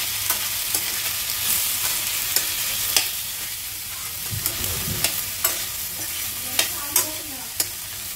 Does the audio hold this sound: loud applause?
no